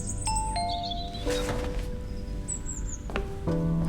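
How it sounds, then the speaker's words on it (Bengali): A doorbell rings as a sound effect in a Bengali detective audio story, giving a few clear two-tone electronic chimes that sound and decay, repeating near the end, with no talk. "বেজে উঠল কলিং বেল"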